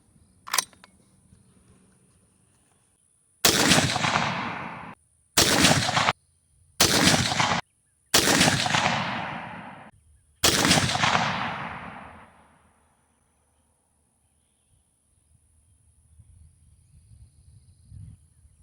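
Five sharp rifle shots from a BCA bolt action upper, loud and close, each a hard crack with a ringing decay, spaced about a second or two apart after a faint click, then quiet.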